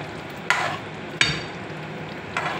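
A spoon scrapes through batata dahi, a potato and yogurt curry, in a pan on medium gas: three soft scraping strokes spaced about a second apart over a faint steady sizzle.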